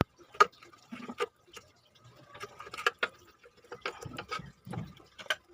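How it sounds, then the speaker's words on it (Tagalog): Plastic flywheel cover coming off a Honda XRM110 motorcycle after its four bolts are out, giving scattered clicks, knocks and light rattles at close range with quiet gaps between them, and no talking. "So, tatanggalin natin tong flywheel cover mga tol."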